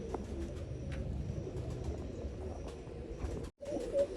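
Soft, low cooing of a Rajan wali bloodline pigeon in Moga rises and falls against a faint background hum, fairly quiet, with no voices.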